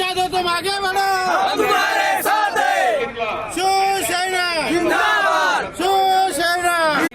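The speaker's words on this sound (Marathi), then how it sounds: "या ठिकाणी प्रचंड नारे देतात प्रचंड गर्दी आहे" A large crowd at a political rally chants slogans in loud, rhythmic, repeated shouts, a dense roar of many voices continuing throughout with brief dips between chants.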